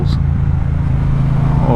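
A Triumph Speedmaster motorcycle's exhaust rumbles and burbles as the throttle drops, a steady close low engine drone under a rider's voice.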